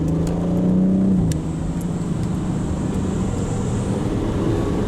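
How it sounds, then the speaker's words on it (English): An Audi RS5 Sportback's engine and exhaust rev loudly up close, the note rising then dropping off into a steady lower drone, with no talking. "It does have a nice exhaust now."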